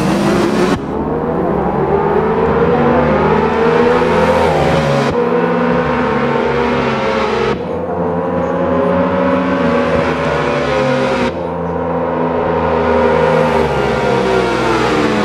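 High-power motorcycles, including a KTM Duke 1290 and a Hayabusa, rev hard in a drag race. Engines over 200 BHP climb steadily in pitch and cut sharply at gear shifts, about four times, loud and close.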